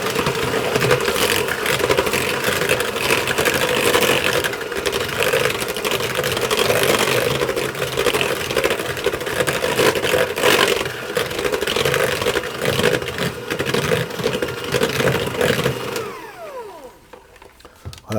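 Electric mixer whisking eggs into a golden syrup sponge batter, a steady close motor whir running unbroken for most of the time before cutting off near the end.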